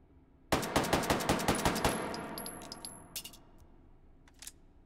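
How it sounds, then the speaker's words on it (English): A rapid burst of about ten sharp gunshots from a classic gun in the VR game Hot Dogs, Horseshoes & Hand Grenades, followed by a decaying ring and a few faint clicks and scattered later shots. "I'm just going to bring the gun up and see if I can hit the center of the target"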